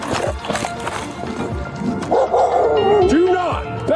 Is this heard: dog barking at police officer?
yes